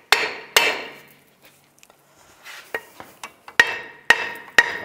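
A hammer strikes the parking brake drum on a 2001-2008 Chevy Trailblazer, ringing out in a series of sharp metallic blows, some loud and some lighter, spaced irregularly with brief pauses.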